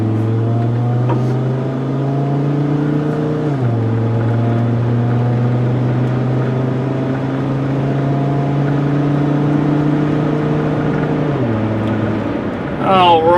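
A 2000 Volvo S70 pulling out and driving off, its engine droning steadily with gear changes where the pitch drops, heard from inside the car.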